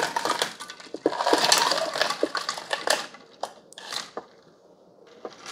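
Ice cubes being stirred into freshly brewed coffee from a Braun KF5650 Pure Flavor coffee maker, with irregular clinks and rattles that thin out into a few sparse knocks toward the end.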